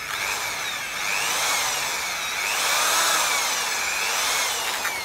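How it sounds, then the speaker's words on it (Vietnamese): A power drill bores through a motorbike part, its whine rising and falling in steady waves for a few seconds, close and fairly loud with no voices. "bây giờ là mình bắt đầu tiến hành khoan"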